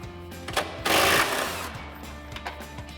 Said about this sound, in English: So we'll grab our 18 mil socket on our impact.